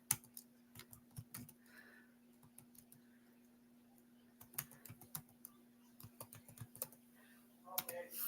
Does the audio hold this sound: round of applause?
no